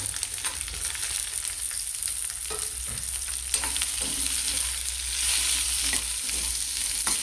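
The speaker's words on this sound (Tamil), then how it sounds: "இப்போ இந்த வெங்காயத்தை ஸ்லைஸ் பண்ணி போட்டுக்கிறோம்." Sliced onions frying with cumin seeds in a pan, a loud, dense crackling sizzle with frequent stirring scrapes and clicks throughout.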